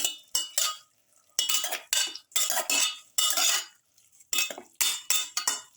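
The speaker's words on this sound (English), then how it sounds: "and 1 spoon of mixture spices. Thoroughly mix." A spoon scrapes and clinks against a bowl while chicken is mixed with spices for a pepper garlic chicken potato stew, in a series of short close scraping strokes with brief pauses between them.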